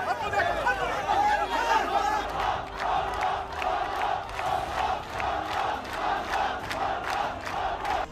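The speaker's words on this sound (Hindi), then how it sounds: "इस भीड़ में कई लोग नेतन्याहू को हत्यारा तक कह रहे थे और उनसे वहां से जाने की मांग करने लगे" Angry Arab Druze crowd in Majdal Shams shouting at Netanyahu, a dense mass of overlapping voices yelling and chanting in rhythmic bursts, loud and close, sustained throughout.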